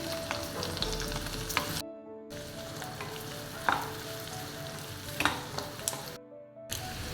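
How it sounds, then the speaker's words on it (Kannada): Two chopped medium onions fry in a pan, crackling and sizzling continuously at moderate volume, with occasional stirring scrapes and two brief dropouts of silence. "ಹಾಗೆ ಸ್ವಲ್ಪ ಈರುಳ್ಳಿಯನ್ನು ಹಾಕ್ಕೊಳ್ತಾ ಇದ್ದೇನೆ"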